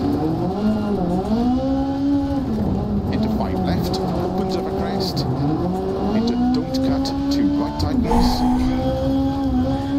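Rally car in Dirt Rally 2.0 being driven hard on a gravel stage: the engine revs rise and fall through gear changes with tyre and gravel noise beneath, loud and continuous, while a voice talks over it.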